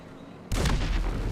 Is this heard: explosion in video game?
yes